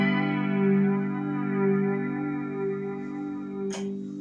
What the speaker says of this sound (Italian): Flanger, che è questo